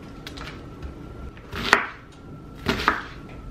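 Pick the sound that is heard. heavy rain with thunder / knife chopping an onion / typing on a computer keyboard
knife chopping an onion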